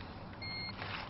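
A car's warning chime sounds once as the ignition power comes on during hotwiring, a short electronic beep heard faintly over a hissing background.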